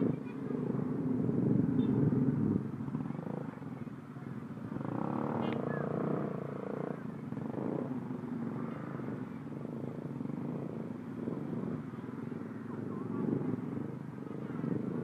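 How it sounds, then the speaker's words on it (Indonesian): Motorcycles fitted with loud racing exhausts rumble and drone through a congested market traffic jam in Madura, a continuous, dense low roar that stays close throughout, with voices talking over it. "pada pakai knalpot racing semua ya"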